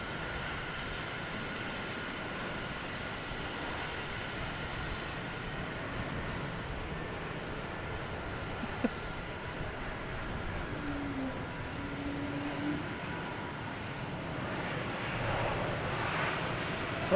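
A JetBlue Airbus A321neo arriving at Boston Logan Airport from San Francisco produces a steady, fairly distant jet roar that holds evenly throughout, swelling slightly toward the end.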